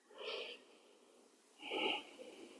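Two slow, breathy exhalations during a floor yoga pose, each a soft airy rush about half a second long separated by a quiet pause, close and gentle with no talking.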